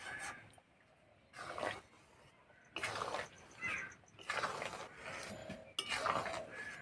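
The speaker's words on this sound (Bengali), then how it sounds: "আর কড়াইয়ের ধারগুলো এইভাবে খুন্তি করে চেঁচে নিতে হবে।" A metal spatula scraping the sides of a kadai while taal dudh bora cooks in milk, in repeated bursts of scraping and clatter with short quiet gaps between strokes.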